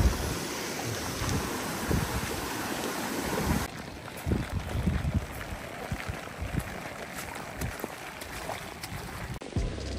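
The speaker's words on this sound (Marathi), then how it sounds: "किती मस्त ओढा आहे, स्वच्छ पाणी आहे." Steady rushing water from a small, clear stream met along a forest trek, heard up close as a continuous broad wash with gusts of wind buffeting the microphone throughout.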